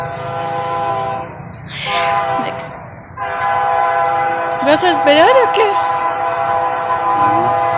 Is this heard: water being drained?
no